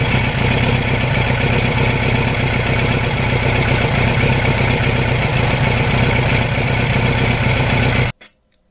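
A 1989 Kawasaki GPX750R motorcycle hums loud and steady while riding, with a constant engine drone and road rush that cuts off abruptly near the end.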